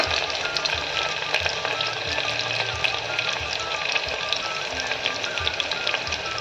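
Oil frying steadily in a pan for tomato pulao, a dense continuous sizzle with crackling spits throughout and faint clinks of stirring, no talking.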